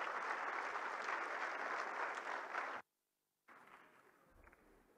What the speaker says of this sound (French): Applaudissements, s'il vous plaît, mesdames et messieurs.